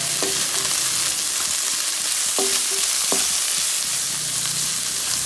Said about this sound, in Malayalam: അതിലേക്ക് 3 പച്ചമുളക് ചെറുതായി മുറിച്ച്, ഒരു 5 വെളുത്തുള്ളി ചതച്ച്, ഒരു കഷ്ണം ഇഞ്ചി ചതച്ച് നന്നായി ഒന്ന് വാഴണം.